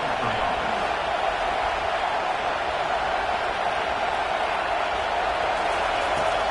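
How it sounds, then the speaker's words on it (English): Steady, dense roar of a large stadium crowd in an American college football video game featuring Michigan, constant and loud throughout with no clear speech on top. "This crowd bringing the energy and noise early."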